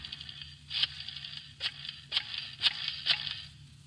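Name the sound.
telephone being dialed in old radio drama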